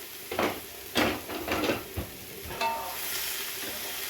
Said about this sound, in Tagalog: Yan ang ating onion. caramelize lang natin yan.